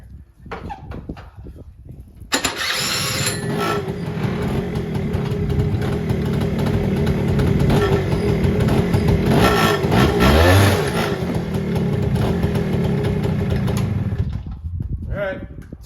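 Suzuki LT80 quad engine starts and keeps running after a drive belt replacement, a steady close buzzing drone with slight rises in revs, ending abruptly; a voice speaks briefly near the end.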